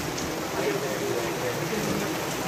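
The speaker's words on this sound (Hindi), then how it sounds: "बहुत तेज़ बारिश हो रही है" Heavy rain pours down steadily in a misty hill setting near Mussoorie, a dense, continuous hiss close by that never lets up, with people sheltering nearby.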